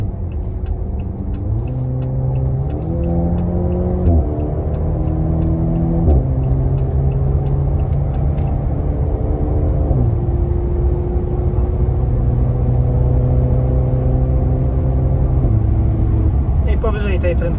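A Maserati Grecale GT accelerating hard on a German autobahn, loud engine drone climbing through repeated gear changes, each shift dropping the pitch before it rises again, with steady road and wind roar throughout.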